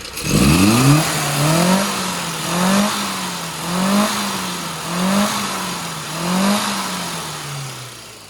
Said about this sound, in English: Sounds really aggressive when you open the throttle